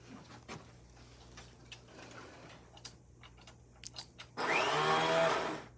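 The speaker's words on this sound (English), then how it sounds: "Okay, brand new vacuum." Scattered clicks and handling taps, then a brand-new Kenmore 600 Series bagged canister vacuum motor switches on and roars steadily nearby for about a second and a half.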